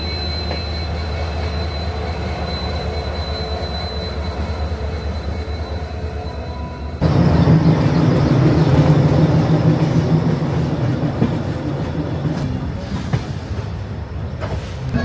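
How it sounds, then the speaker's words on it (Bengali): The Tamralipta Express pulls out of Howrah station, a steady loud rumble of rail cars heard from on board that swells abruptly as the train gathers speed, with rattling wheels and faint squeals. "আর আমাদের তাম্রলিপ্ত এক্সপ্রেস ছাড়লো"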